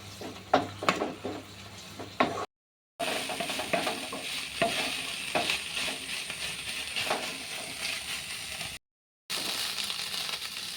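Prawns frying in a pan are stirred until dry, with bursts of scraping and clinking from the utensil over a steady sizzle, broken by two brief silent gaps.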